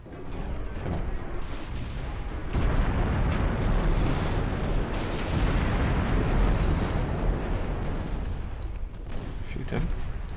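Warship naval gunfire in a World War-era naval strategy game, with heavy booming salvos and rolling blasts layered into a dense roar, while someone talks over the action.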